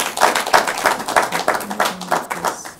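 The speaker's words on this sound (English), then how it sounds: "But still, a round of applause to you." Audience applause at a university law debate contest, many hands clapping in steady, dense bursts for nearly three seconds with no speech over it.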